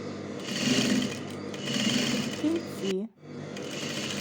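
A sewing machine runs in steady bursts while stitching along the top edge of a trousers waistband, its motor buzzing continuously close up, then stopping briefly before resuming near the end.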